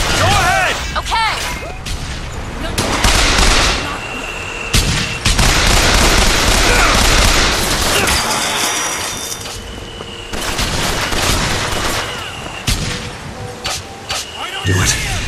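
Heavy gunfire in the video game Bioshock Infinite, with loud sustained volleys and booming impacts through most of the stretch, and character voices shouting over the shooting.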